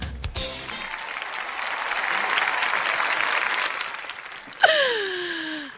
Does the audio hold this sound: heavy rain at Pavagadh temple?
no